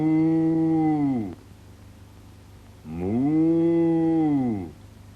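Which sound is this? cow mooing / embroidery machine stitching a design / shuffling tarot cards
cow mooing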